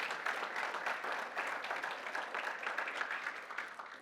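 A church congregation applauds during a Sunday service, a steady, fairly faint patter of many hands clapping without pause and no speech over it.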